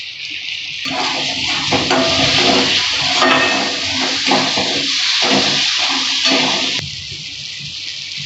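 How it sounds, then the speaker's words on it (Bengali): Spice paste (masala) sizzles in oil with a spoonful of sugar added for a fish curry, a loud continuous frying hiss with stirring scrapes that fades near the end. "মশলাটা আমি ভালো করে কষিয়ে নেব।"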